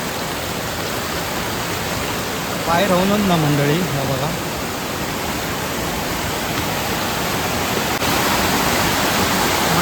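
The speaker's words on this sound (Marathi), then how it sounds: "मंडळी, बघा जबरदस्त धबधबो असा" A newly found waterfall at Mangeli Deulwadi near Ghotge in the monsoon rain gives a steady, loud, close rushing roar throughout, while someone speaks briefly over it partway through.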